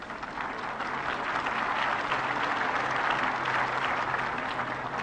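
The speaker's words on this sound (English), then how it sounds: "Both players getting a good hand from the crowd." Sustained applause from the crowd at the 1975 Australian Open men's tennis final between Newcombe and Connors, an even, dense clapping that holds steady for several seconds with no talk over it.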